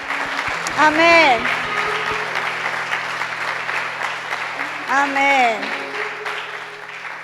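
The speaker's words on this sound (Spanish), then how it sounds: "Que levante una ofrenda de aplausos delante de su Señor en esta mañana." A church congregation claps steadily and continuously through a worship service. A voice calls out twice over the applause.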